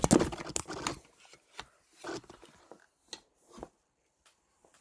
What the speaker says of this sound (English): the camera just fell